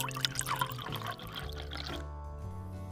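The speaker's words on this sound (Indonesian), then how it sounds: "baru tuang 100 ml air." Water is poured into a flour and chopped onion mixture for a fluffy soufflé omelette, a steady close pour with faint liquid trickling that continues for about two seconds before thinning to a quiet tail.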